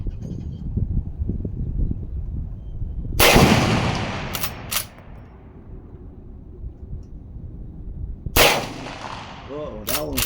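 A Smith and Wesson 1854 lever-action in .44 Magnum fires two loud, sharp shots several seconds apart outdoors, each followed by a rolling echo decay.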